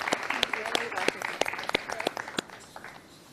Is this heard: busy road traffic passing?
no